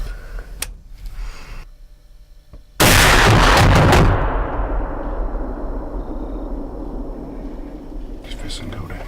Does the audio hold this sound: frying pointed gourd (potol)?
no